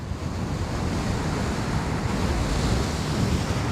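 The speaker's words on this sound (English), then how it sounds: "Yeah, this is pretty crazy headwind here." Strong headwind roars into the microphone while riding a KingSong 18XL electric unicycle, a dense, continuous, loud rushing wind noise filling the whole stretch with no voice over it.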